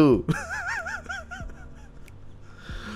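A goose carried in a vehicle lets out a loud, wavering run of honks up close, then fades into quieter calls over the low rumble of the vehicle.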